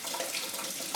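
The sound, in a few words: tap running warm water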